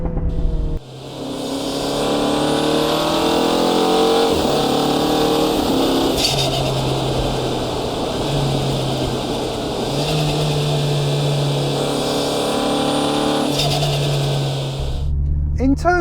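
Mini Clubman JCW engine with catback exhaust and pipe-across filter, running steadily and loud throughout with a sustained drone and slight pitch shifts, as though cruising or revving, while a person talks over it.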